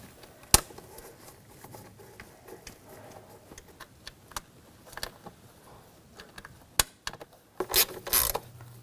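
Ratchet clicking as bolts on the ignition coil cover of a 2000-2006 BMW X5 3.0L inline-six are snugged down; faint scattered ticks through most of the span, then a louder burst of rapid clicks near the end.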